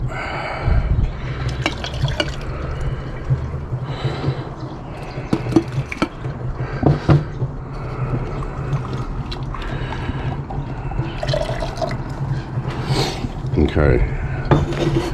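Water and gold powder are stirred in a beaker during gold recovery from gold-bordered oscillators. Close-up liquid swishing and light glassy clinks and taps go on irregularly throughout, with faint background noise.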